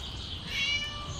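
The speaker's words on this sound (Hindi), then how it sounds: "कोई बिल्ली लॉक है शायद।" A cat in the Scary Teacher 3D video game gives a single short, faint meow, heard alone against a quiet game background.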